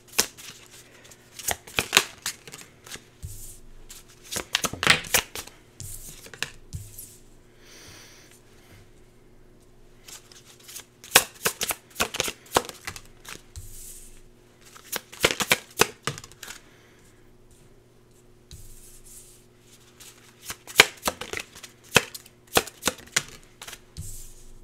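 Tarot cards shuffled in repeated bursts of crisp riffling and flicking, several rounds separated by quiet pauses with a low background hum, close and fairly faint, no talking.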